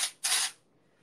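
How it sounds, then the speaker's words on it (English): Oribe dry texturizing spray hisses from an aerosol can in two short, close bursts, the second slightly longer, then fades to quiet. "So you can spray this into your roots."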